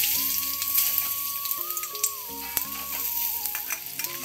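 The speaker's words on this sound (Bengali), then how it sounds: "এবার আমি ওই তেলে ফোড়নে দিলাম তেজপাতা, শুকনো লঙ্কা, একটু নাড়াচাড়া করে নিয়ে দিয়ে দিলাম জিরা" Bay leaf, dried chili and cumin sizzling in hot oil for a Bengali fish curry tempering, a loud crackling sizzle with stirring clatter, close up, over a sustained melodic background music tone.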